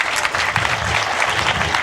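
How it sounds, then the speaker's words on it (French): An audience at an evening high school club ceremony applauds, a dense, continuous burst of many hands clapping close by, steady and loud for the whole stretch with no talk over it. "Il mérite amplement des applaudissements."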